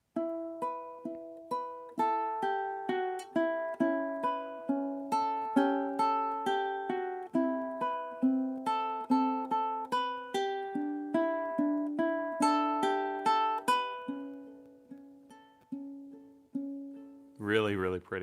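Ukulele melody picked with fingers held down so each note rings and sustains, steady moderate phrases overlapping softly, ending with a brief strum.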